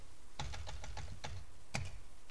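Short run of keystrokes on a computer keyboard entering a router command in a terminal, about a dozen crisp clicks in quick succession with a brief pause before a final pair, close over steady room noise.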